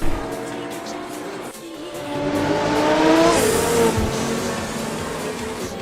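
Koenigsegg race car engine in a racing video game on its final lap, revving and rising in pitch as it accelerates, loud and close, with tire noise and a commentator talking over it.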